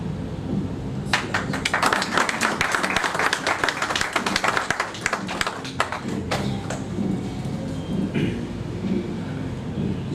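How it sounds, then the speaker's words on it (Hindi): Applause and clapping from an audience at a Dubai welcome ceremony: dense, uneven claps swell for several seconds, then thin out into scattered claps and room murmur. "ज़रा तालियां वालियां बजा देना ताकि माहौल बना"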